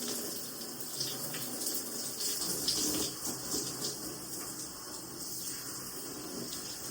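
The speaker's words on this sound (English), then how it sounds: "And now I'm washing my hair." Water runs steadily from a tap while hair is washed, a continuous close hiss and splash with slight fluctuations as the flow is disturbed, no talking.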